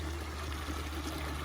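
A small backyard waterfall trickles into a creek, a steady, even wash of running water that stays fairly soft and unbroken, with no voices over it.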